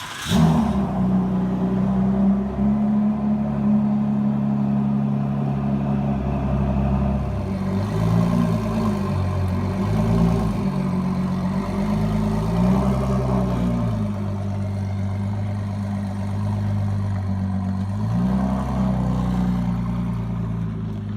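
A 2017 Ford GT engine runs continuously at a steady mid-pitched idle, with a few small rises and dips in revs, with no voices.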